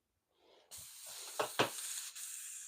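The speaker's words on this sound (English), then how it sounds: "I am spraying it on the paper towel instead of in this thing" Airbrush spraying paint onto a paper towel, a sustained close hiss that starts abruptly and runs steadily, with a couple of brief louder bursts partway through.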